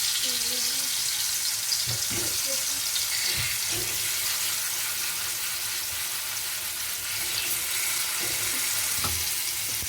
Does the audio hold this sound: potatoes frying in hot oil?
yes